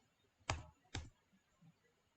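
Two crisp clicks on a computer keyboard while JavaScript code is typed, sharp isolated taps about half a second apart in an otherwise quiet room.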